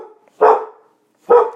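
A dog gives two loud, close barks about a second apart, each short burst fading quickly into silence, with no talking over them.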